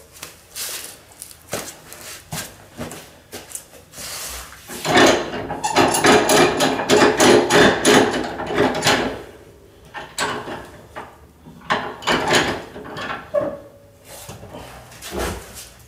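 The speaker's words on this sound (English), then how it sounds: "I'm actually just going to use a hand file rather than a drum, and just cut the splice down, shape the handle" A hand file rasps over the splice and handle of a cricket bat, with bursts of dense, rhythmic scraping strokes separated by knocks and pauses, loud and close in a workshop.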